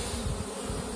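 Honeybees buzz in a dense, continuous hum inside an open hive, with many bees crowded low in the box during a June queen search, close and steady.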